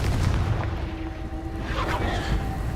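The Confringo explosive spell bursts in Hogwarts Legacy with a deep booming blast, followed by rumbling impact noise and a few sharp crackles.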